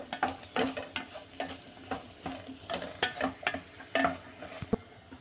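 Radish and tamarind frying in a pan, a close sizzle punctuated by repeated rhythmic stirring scrapes and clacks, no voices.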